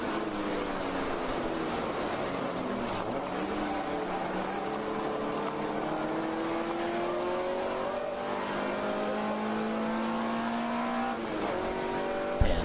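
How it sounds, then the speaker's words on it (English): Race car engine at an endurance race at VIR, held at high revs then easing as the driver lifts off the throttle, pitch sliding down and wavering, a brief tire squeal, loud and sustained with no talk. "It sounds like he might be lifting off the throttle a little bit."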